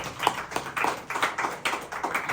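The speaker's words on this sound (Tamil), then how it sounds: "கைத்தட்டி ஆண்டவரை மகிமைப்படுத்தும்" Congregation clapping hands together in a church worship service, a steady rhythmic run of claps at a brisk pace, fairly close and moderately loud with no one speaking.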